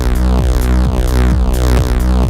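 A gritty, distorted synth bass plays a steady repeating pattern with pulsing rhythmic accents, loud and upfront, with no voices.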